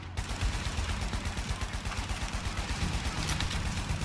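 Gunfire in the video game The Division during a raid, rapid continuous automatic shots in a steady rattling rhythm, loud and close, with no pauses.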